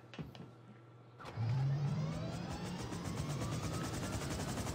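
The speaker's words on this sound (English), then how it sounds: "We can use the chopper that was Trevor's apparently" Helicopter engine in Grand Theft Auto 5, a short quiet stretch giving way to a loud, steady whirring drone that rises in pitch and holds for several seconds, alone without talk.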